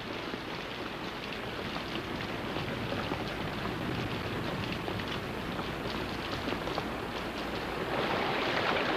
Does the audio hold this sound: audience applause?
no